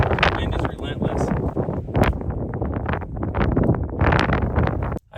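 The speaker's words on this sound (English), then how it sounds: "The wind is relentless." Strong, relentless desert wind roars and buffets continuously for several seconds, loud and broadband, gusting in waves before cutting off abruptly at the end.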